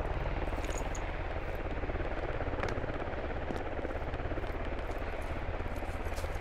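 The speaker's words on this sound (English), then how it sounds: "I hear something north. Friendly chopper." A friendly helicopter flies over the battlefield in the military shooter game Squad. Its rotor thrum is steady, continuous and fairly distant, with faint scattered pops in the background.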